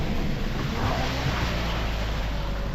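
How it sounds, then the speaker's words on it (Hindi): A waterfall pours across the washed-out Pokhara to Mustang road, a steady, dense rushing roar that stays constant and loud with no talking. "अब ये वाटरफॉल मिला है हमें यहाँ"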